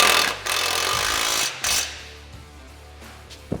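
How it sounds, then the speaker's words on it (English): Power tool tightening shock hardware on a Polaris RZR, with a close, loud rattling whir in a few bursts, then short clicks and a quieter trailing rattle. "Now we're gonna tighten our shock hardware."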